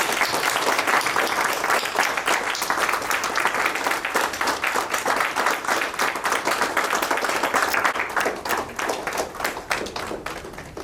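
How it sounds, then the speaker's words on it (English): An audience at a bank's preventive vigilance workshop session gives a long, loud round of applause: dense, continuous clapping from many people that holds steady for about ten seconds and only starts to thin toward the end. "Have a huge round of applause, please."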